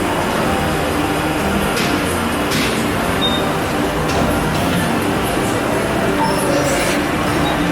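Loud, steady rumbling and clattering of an amusement park ride train at the Wiener Prater in Vienna rolling along its track, a continuous roar with occasional higher rattles and squeaks.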